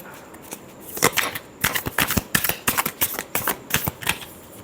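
Tarot cards are shuffled in a brisk, close riffle. Dense papery flicks come in quick bursts with short gaps between them, growing busier toward the end.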